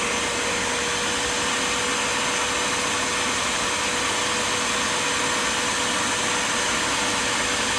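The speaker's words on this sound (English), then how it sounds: "Here you can see all the dirt getting sucked up through that transparent panel." A Bissell Spot Clean carpet cleaner draws dirty water up through its nozzle while cleaning a Mercedes-Benz interior, giving a loud, steady motor whine and suction roar that runs unbroken from start to finish.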